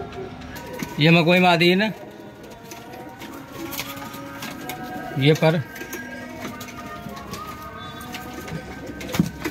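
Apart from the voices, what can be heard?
pigeons cooing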